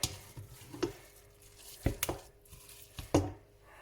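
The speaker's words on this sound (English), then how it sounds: "We're going to give it a little mix." Samosa filling is stirred in a pan as it cooks, with a few scattered clinks and scrapes of a utensil against the pan over a quiet background, close up and without speech.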